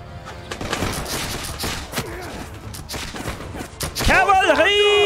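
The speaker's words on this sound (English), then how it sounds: "prepare your rifles! On my command, you shoot!" Rifle volley fire in Bannerlord with the Guns & Powder mod, a dense crackle of overlapping musket-style shots on a battlefield, with voices shouting and a sweeping tonal sound rising near the end.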